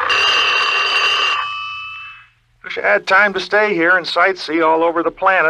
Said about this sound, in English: that sound you hear is the warning bell on my time machine letting me know it's time to return